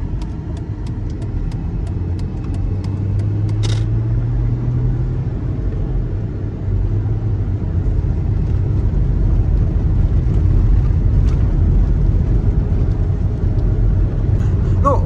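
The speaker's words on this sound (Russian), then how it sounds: "едем по дороге по Тавриде из Симферополя" A car drives along the Tavrida highway out of Simferopol in Crimea, producing a steady low road rumble and tyre noise heard from inside the cabin for the whole stretch, with no talk.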